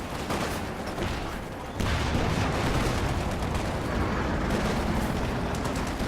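Constant gunfire and artillery in a World War II strategy game battle, with dense overlapping shots and explosions forming a loud, unbroken roar that thickens partway through.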